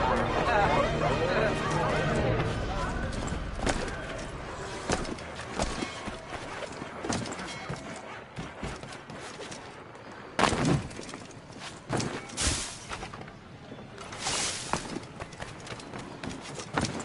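Horse hooves clop in a steady rhythm in the video game Assassin's Creed III, with voices chattering over them and background bustle.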